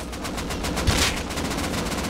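Rapid bursts of AK gunfire in the survival game Rust during a PvP fight, a loud, fast string of close shots with no talking.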